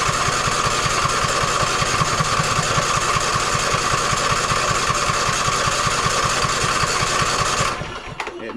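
An Ariens riding mower engine cranks over steadily, a rapid rhythmic starter churn that holds for nearly eight seconds at close range, then cuts off abruptly into near silence.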